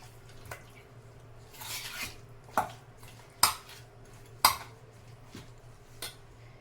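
Chicken being mixed with chopped curry leaves and coriander in a bowl, giving a few sharp clinks of a utensil against the bowl and soft scraping over a low background hum, with no talking.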